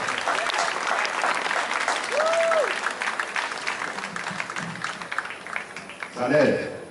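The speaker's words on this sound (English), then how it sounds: "A round of applause, ladies and gentlemen." A crowd applauds at the opening ceremony of a national swimming championship at a city pool after the presentation of national colours, with loud continuous clapping echoing across the venue, a brief whistle-like tone midway, and a short burst of voices near the end.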